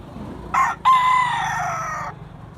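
A loud rooster crow rings out close by, a short opening note followed by a long drawn-out call, with no one talking.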